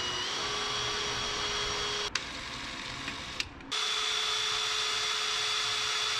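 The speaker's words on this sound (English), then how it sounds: "drill that sucker out as much as you can" A steady, loud whine of a power drill drilling out a broken stud on a 1976 GMC, running continuously, briefly dropping off twice before resuming at full strength.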